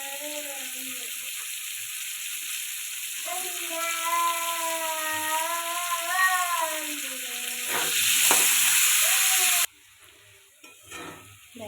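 Carrots fry in a pan for a vegetable moong dal, giving a steady close sizzle beneath a talking voice, swelling to a harsher hiss near the end before dropping away quieter.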